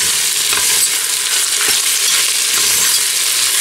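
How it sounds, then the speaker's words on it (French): Ingredients for pasta with meatballs sauté in olive oil in a pan, producing a loud, steady, close sizzle with faint crackles and no talk. "Je laisse revenir dans l'huile d'olive pendant 1 minute."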